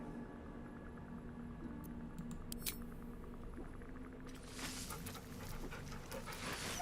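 A dog pants rapidly and steadily, close by and fairly quiet, over a low hum of background noise.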